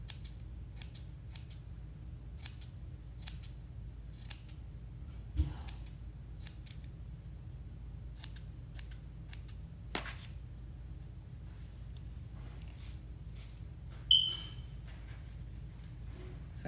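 Scissors snip through tulle pom pom strands in a quiet room, a long run of crisp, evenly spaced cuts, with a couple of soft thuds and a brief rustle near the end.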